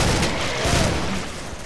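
Rapid gunfire from an action rifle in the co-op shooter game Killing Floor, a dense continuous burst of loud, closely spaced shots filling the whole moment with no talk over it.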